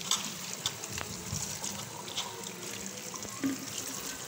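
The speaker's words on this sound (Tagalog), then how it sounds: "hugasan ko lang to dahil ilalaga ko po siya" Saba bananas are washed by hand under a running kitchen tap, a steady close rush of water with splashing and occasional knocks against the sink.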